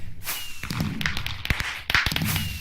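Fireworks in modded Minecraft pop and thump in quick succession, several sharp bursts and whip-like cracks spread across a couple of seconds over game ambience, with no talk.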